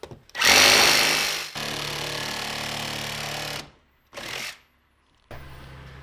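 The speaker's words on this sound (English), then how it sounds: "You'll start your Sawzall, and then you'll slowly just tip it forward so you don't cut through everything." A Sawzall reciprocating saw cuts out an old window insert, roaring loud for about a second, then running steadily for two more, followed by a short burst and a final restart, with no talk.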